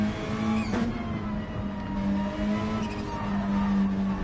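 GT3 race cars, including an Aston Martin, lapping Fuji in a racing game, a sustained engine tone with a steady pitched whine, a brief tire squeal and revving, moderately loud and continuous.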